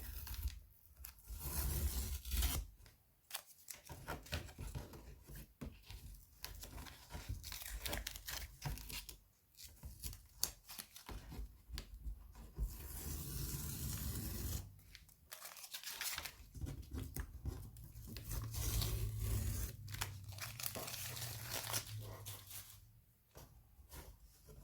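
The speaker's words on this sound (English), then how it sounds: "Let's take off the tape and have a look." Masking tape peels off a watercolour painting in repeated close, crackly ripping strips, each tearing pull separated by short pauses and soft rustles of paper.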